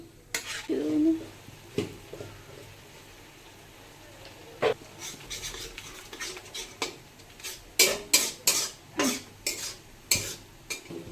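Tomatoes and a chilli and garlic paste go into a frying pan, followed by a low sizzle under repeated clinks and scrapes of a utensil stirring against the metal, growing busier and more rhythmic toward the end.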